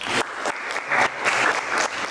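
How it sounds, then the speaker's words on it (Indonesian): A group gives short bursts of choppy, uneven clapping during an Indonesian teacher-training class session. "oke, tepuk tangan."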